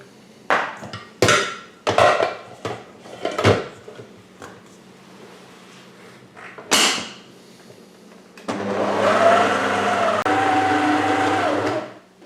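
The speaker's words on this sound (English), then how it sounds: "I'm going to put half the flour in now, and then let it mix around" A kitchen mixer works flour into sticky rhubarb pie pastry dough: a few sharp knocks and clatters come first, then a steady, loud motor whir with a rough churning edge runs for the last four seconds.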